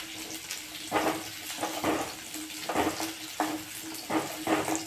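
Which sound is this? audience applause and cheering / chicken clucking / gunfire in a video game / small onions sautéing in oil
small onions sautéing in oil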